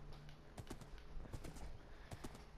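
Hooves of a horse walking in Minecraft on PS4, a steady run of soft clip-clop steps at moderate distance with no talking over them.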